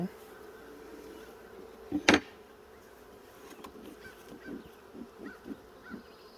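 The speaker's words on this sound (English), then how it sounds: "This is the most aggressive the bees have been so far." Agitated honeybees hum around an opened hive during an inspection, a faint continuous buzz with a sharp clatter early on and pulsing swells of wingbeats toward the end.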